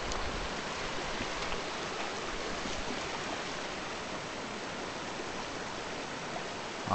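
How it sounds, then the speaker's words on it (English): A hot spring waterfall at Bonneville Hot Springs in Idaho tumbles down into a large source pool, giving a steady, loud, unbroken rush of falling water with no voices. "A hot waterfall."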